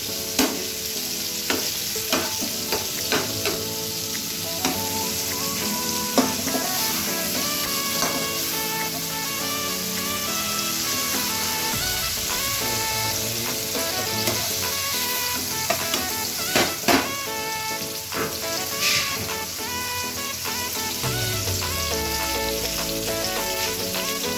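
Ridge gourd (torai) frying in a pan for a mixed vegetable sabzi, a continuous close sizzle broken by frequent stirring clinks and scrapes of a utensil against the pan, no voices.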